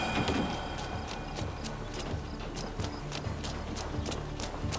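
Horse hooves clip-clop steadily in Assassin's Creed Valhalla, a fairly loud, continuous rhythmic trotting over a busy game soundscape with no speech.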